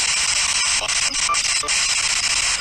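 Loud, continuous white-noise static broadcast from a ghost-hunting app on an Android phone, a dense hiss with brief crackling dropouts and faint chopped fragments running throughout.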